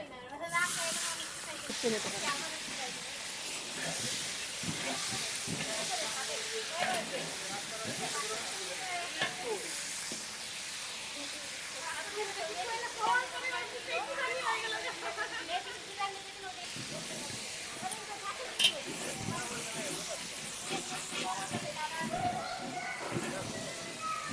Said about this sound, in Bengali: তেল গরম হয়ে গেছে এবার মাছের মাথাগুলো ভেজে নেব